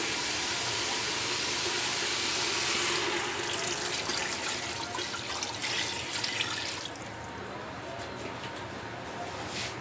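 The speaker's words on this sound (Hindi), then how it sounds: "अब मैं इसमें पानी डाल दूँ।" Water poured into a frying pan of paya curry (trotters) being cooked, a steady close hiss and splash running the whole time, easing slightly near the end.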